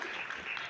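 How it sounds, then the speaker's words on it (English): Brief burst of crowd applause, many hands clapping in a dense wash of sound. "give a round of applause"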